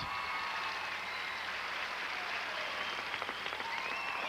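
Audience applause for a skating pair at a professional ice show, steady and moderately distant across the whole stretch, a dense wash of clapping with a faint murmur beneath.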